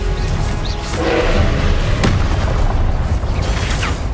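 A Confringo blasting spell explodes in Hogwarts Legacy, a loud booming thud with a sharp crack near the middle, set against dense, continuous game noise.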